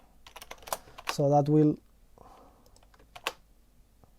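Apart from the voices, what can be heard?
typing on a computer keyboard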